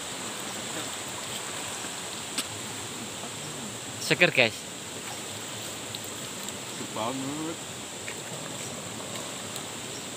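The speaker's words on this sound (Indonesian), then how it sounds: "Ini sungai abadi nih, tanpa habis air" River water flows in a steady broadband rush at a big river where people are bathing, with voices briefly chattering over the continuous stream.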